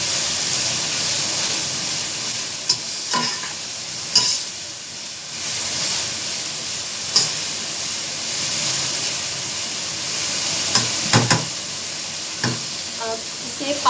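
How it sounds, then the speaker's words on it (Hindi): Vegetables for chicken spicy spaghetti fry on medium-high heat with a continuous close sizzle, punctuated by scattered clinks and scrapes of a spoon stirring the pan. "हल्की तेज आंच पे इन सारी वेजिटेबल्स को फ्राई करना।"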